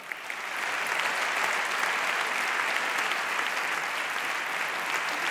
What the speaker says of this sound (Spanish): El aplauso de este público.